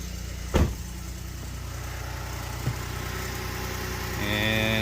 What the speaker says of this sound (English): Starting the truck up. No clatter at all.